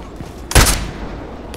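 A single sharp sniper rifle shot in the shooter game Contract Wars, loud and close, with a short echoing tail over quiet game background.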